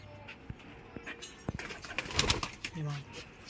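Punjabi flying pigeons coo quietly from near by, with scattered clicks and soft rustling between the low calls.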